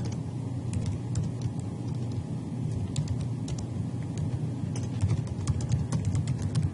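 Rapid, irregular key clicks on a computer keyboard as a social media status update is typed, steady through the clip over a constant low rumble.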